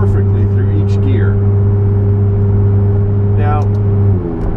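A McLaren 570S drives with a loud steady engine drone holding low tones, then a gear change near the end drops and shifts the pitch, with talking over it.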